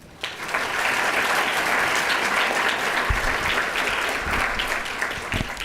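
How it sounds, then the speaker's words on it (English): Sustained audience applause at a student leadership awards ceremony for a scholarship recipient, dense clapping that swells quickly and holds steady, with a few closer louder claps and soft crowd murmur underneath. "hold your applause"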